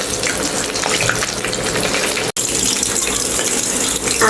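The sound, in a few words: hilsa fish frying in oil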